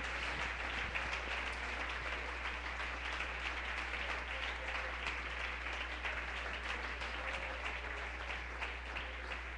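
Steady applause from a church congregation, a soft, even wash of clapping that holds for several seconds without letting up.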